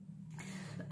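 A single sharp cough bursts out right at the end, after a low steady hum in a quiet indoor space.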